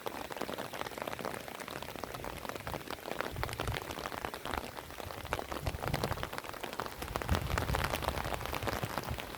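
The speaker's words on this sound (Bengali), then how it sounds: "ওই সাইডটা এখন প্রচণ্ড বৃষ্টি হচ্ছে" Rain falls on a cool evening in Upper Pelling, a soft, steady patter spread evenly throughout, fairly quiet and with no voices.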